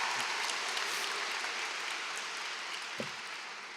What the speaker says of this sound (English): Please, a huge round of applause for them.